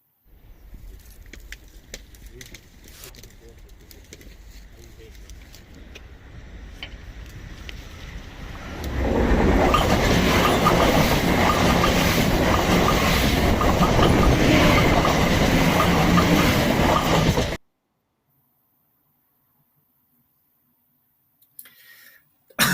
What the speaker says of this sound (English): the track bending down as the train moves over the point between where the abutment stops and the soil begins